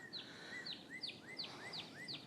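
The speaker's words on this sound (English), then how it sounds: "I hear the birds." Several birds call outdoors, repeating short rising and falling chirps in a steady rhythm at moderate distance, set against a low background rumble like wind or distant rain, with no one speaking.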